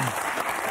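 Studio audience applauding on the French game show Motus, a dense, steady wash of clapping filling the brief moment, fairly loud and close.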